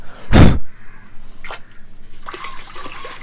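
Water carrying guppy fish is poured from a bucket into a pond, opening with a short loud splash, then a brief second splash and a light scattered trickle and drip afterward.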